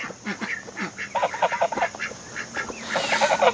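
Ducks quack and honk repeatedly on a farm during morning chores, several calls overlapping at close range with steady rustling and movement around them.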